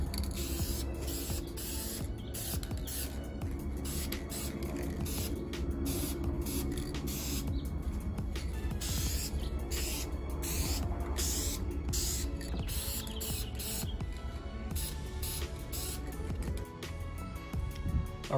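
Clear coat sprayed onto a Mazda Miata intake manifold: a steady, close aerosol hiss running continuously with brief breaks between passes, no talking.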